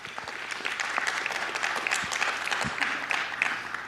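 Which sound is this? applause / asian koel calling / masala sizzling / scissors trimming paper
applause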